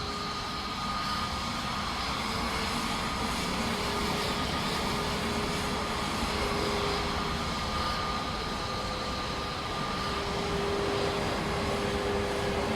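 In a flight simulator, a steady jet engine whine and rumble from an Airbus A321neo taxiing on one engine, constant and droning throughout with a faint high tone.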